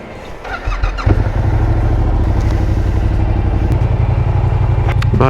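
A Yamaha R7 sport motorcycle engine idles up and then holds a loud, close, steady throbbing rumble, with a few brief mechanical clicks and squeaks on top.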